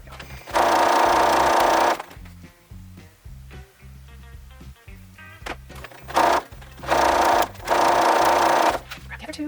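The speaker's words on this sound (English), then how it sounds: "And then I sew in rows." A sewing machine stitches rows of quilt block pieces in loud, steady whirring runs of a second or two each. Quieter handling and a soft voice fill the pauses between the runs.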